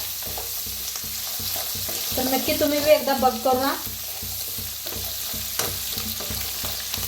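Leftover cooked rice being tempered in a pan sizzles and fries steadily, with a spatula scraping and stirring and a brief burst of louder sizzling midway, while a voice speaks over it.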